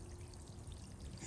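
Water is poured to wash down a surface outdoors in wintertime Las Vegas, a steady, close splashing flow that runs throughout without pause.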